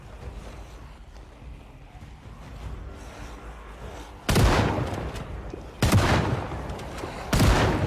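Last gunshots fired in the zombie survival game Project Zomboid: three loud, heavy blasts about a second and a half apart, cutting through a steady, windy background noise.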